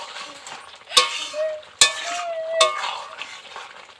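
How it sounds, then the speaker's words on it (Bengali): Ghee being stirred into a winter vegetable curry gravy in a pan, a spoon clinking against the pot in three sharp strikes with soft scraping and faint sizzle between them, close and without talk. "ঘিটাকে একটু ভালো করে মিশিয়ে দিচ্ছি"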